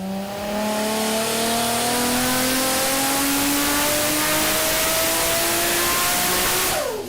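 A Nissan R32 GT-R with a 2.8 litre engine screams on a dyno, one long loud sustained pull with pitch climbing steadily across the run, then cutting off sharply at the end.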